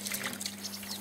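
Water pours and splashes while dirt is washed off carrots outdoors, a steady bright trickling rush with faint bubbling and no talk.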